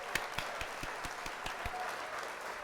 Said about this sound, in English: Let's hit the old applause here.